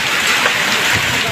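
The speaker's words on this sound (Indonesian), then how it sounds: "terjadi hujan es" Hail pelts down steadily during a windy Sunday storm in Bandung, a dense loud rattling hiss close by with a faint voice under it.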